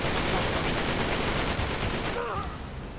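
Rapid automatic gunfire from Uncharted 3 rattles loud and close in a fast, steady burst of shots for about two seconds, then cuts off, leaving quieter in-game ambience with a faint tone.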